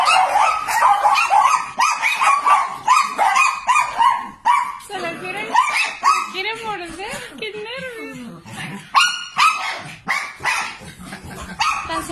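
Puppies bark repeatedly in sharp, yipping bursts at a hungry condor, with some whining in between and people talking and laughing nearby.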